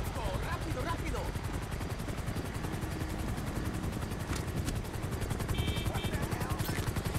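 A helicopter in the video game GTA 5 during an Illinois state trooper police patrol mod, its steady rotor chop running throughout with bursts of gunfire, while someone talks over it.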